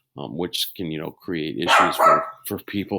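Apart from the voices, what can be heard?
dog barking at its reflection in a sliding glass door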